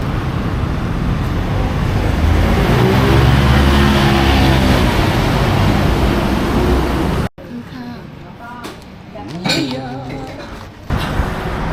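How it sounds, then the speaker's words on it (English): Heavy street traffic in Bangkok roars as a loud, steady wash of engines and road noise for about seven seconds, then cuts sharply to quieter, clattering surroundings with scattered sounds. "there's always loads and loads of traffic going on in and around Bangkok"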